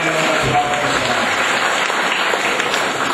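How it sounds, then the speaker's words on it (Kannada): A church congregation claps together at a New Year Mass, a short burst of dense, even applause filling the hall. "ಚಪ್ಪಾಳೆ ತಟ್ಟಿ ಅವರಿಗೆ ಸ್ತೋತ್ರ ಕೊಡೋಣ"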